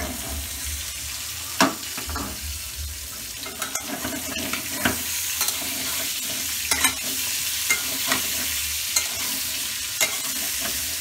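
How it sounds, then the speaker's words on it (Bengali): Sliced pointed gourd (potol) frying in oil in a pan, a steady close sizzle broken by repeated scraping and tapping of a spatula stirring the pieces, with no talking. "পটলটা মোটামুটি একটু ভালোভাবে ভাজবেন প্রথমে মিডিয়াম আছে ভাজতে হইবে"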